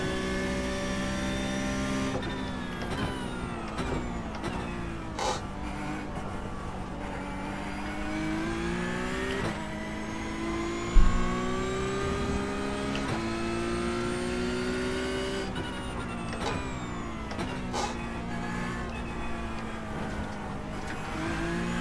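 A race car engine in a racing game drones steadily throughout, pitch climbing and dropping through gear shifts, with a brief thud near the middle.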